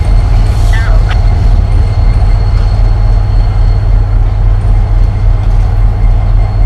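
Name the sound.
Norfolk Southern SD70ACE locomotive passing with train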